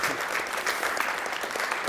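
Many hands clap together at a speedrun gathering, a brief, even wash of applause at moderate volume with no voices on top.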